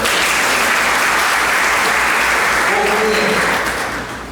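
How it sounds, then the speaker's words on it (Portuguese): An audience bursts into dense, loud applause during a talk on suicide prevention, sustained clapping from many people that tapers off near the end, with faint voices mixed in. "Uma salva de palmas para ele."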